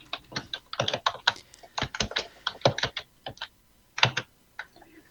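Steady keyboard typing on a computer during accounting-software data entry, bursts of close, crisp key clicks with short pauses between runs, no voices.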